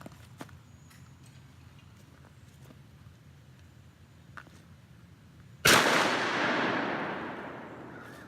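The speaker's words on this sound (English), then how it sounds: "we're going to go ahead and test fire this Stevens 89" A Stevens 89 shotgun with a newly fitted firing pin is test-fired outdoors: a quiet stretch with faint footsteps, then one sharp, loud report whose echo trails off over a few seconds.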